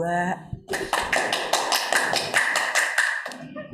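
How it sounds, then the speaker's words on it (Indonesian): Group clapping during an online school Isra Mi'raj commemoration, a run of rapid close hand claps following a brief voice, continuing steadily for a few seconds before stopping. "Tepuk tangan."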